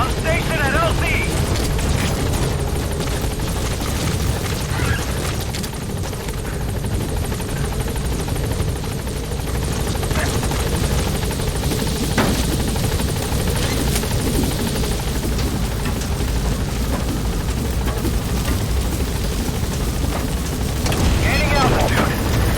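Pequod, the helicopter in the video game Metal Gear Solid 5, gives a steady, loud, continuous rotor chop and turbine roar throughout, with a radio voice speaking over it.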